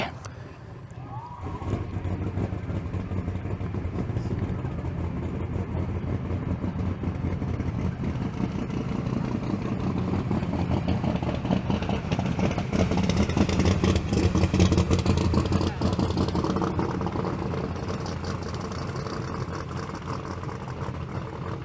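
Drag racing cars at a street car event tear down the strip in a sustained, loud engine roar that swells to a peak midway through and then tapers slightly.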